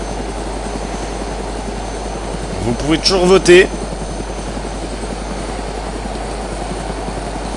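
Helicopter rotor noise in the survival video game DayZ, a steady broadband drone running under someone speaking French, with a short louder burst of talk in the middle.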